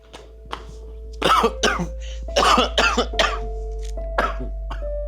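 Repeated coughing fits from someone choking on dust during house cleaning, several harsh bursts in quick clusters, close and loud, with a faint steady hum behind.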